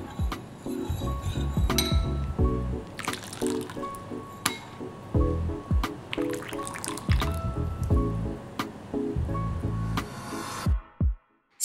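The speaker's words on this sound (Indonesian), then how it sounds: "Lalu kita aduk kopinya hingga rata" Brewed coffee stirred in a container with a spoon, giving repeated clinking and liquid sloshing in a steady rhythm, close and clear, ending with a brief pause.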